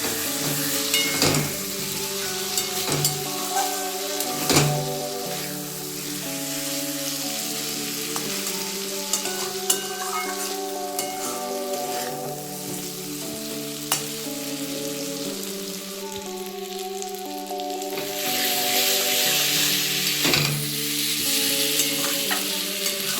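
Cauliflower and potato sautéed with a pinch of sugar in a pan, a continuous loud sizzle with frequent spoon scrapes and clinks against the pan as the mixture is stirred throughout; no talking.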